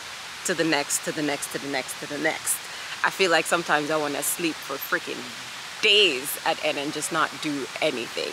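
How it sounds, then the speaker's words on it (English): A tiny waterfall in a park gives a steady, soft hiss of falling water in the background, mostly under a nearby person talking throughout. "There's some waterfall behind me."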